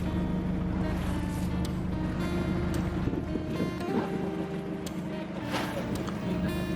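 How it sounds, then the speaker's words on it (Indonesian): A boat nears a wooden pier off Onrust Island in the Thousand Islands, a steady low engine drone mixed with wind and water noise throughout, with no clear voices. "Perahu mulai melambat saat dermaga kayu terlihat jelas."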